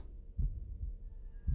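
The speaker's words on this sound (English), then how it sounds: "The heartbeat in my head is decidedly distracting." Heartbeat from the puzzle game The Room, low muffled thumps in a slow repeating rhythm, close and steady with no talk over it.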